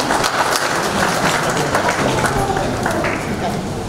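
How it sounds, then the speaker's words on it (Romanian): Steady applause from a crowd at an award ceremony for couples married 50 years fills the whole clip, dense and continuous clapping at close range with no pauses. "haideți să aplaudăm, felicitări!"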